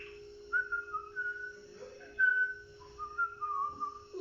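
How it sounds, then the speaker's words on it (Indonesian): A man whistles a cheerful, bouncy tune, with several short melodic phrases and brief breaths between them, clear and close with no talking. "bersiul-siul"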